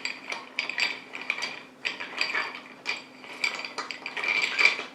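A bar spoon clinks and rattles against ice in a mixing glass as a gin and dry vermouth cocktail is stirred, giving quick, close, bright clatters in an uneven rhythm.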